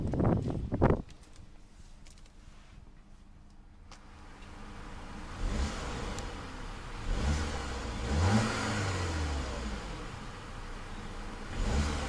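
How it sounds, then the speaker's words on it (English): A 2015 Audi A3 2.0-liter turbo engine revs up several times, the pitch climbing and falling in smooth sweeps over a steady idle, close and fairly loud. "let's see about a couple of revs of that 2-liter turbo"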